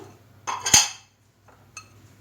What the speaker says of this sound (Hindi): अब इसमें मैं ज़ीरा डाल दूंगी, सूखा धनिया,